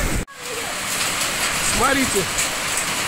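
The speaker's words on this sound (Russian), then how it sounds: "у нас пошел град." Steady pattering of hail and rain on surfaces in Kuban fills the background, with a few spoken words and brief voices over it.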